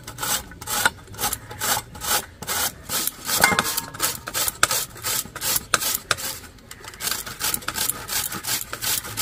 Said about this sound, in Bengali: আমি আলুগুলো একটা গ্রেটার দিয়ে গ্রেট করে নেব।